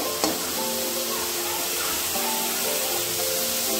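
Leafy village greens with salt and turmeric sauté in oil, giving a dense, continuous close sizzle with a brief clink near the start.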